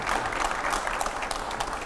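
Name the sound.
applause from the audience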